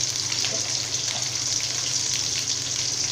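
Crushed garlic cloves and small shallots fry in hot oil for avarakkai sambar, giving a steady, dense sizzle with faint crackles that holds even throughout, with no talking.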